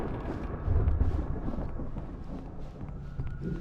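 Thunderstorm in the video game Alan Wake: a low, continuous rumble of thunder swells early and rolls on beneath steady storm noise, with no speech.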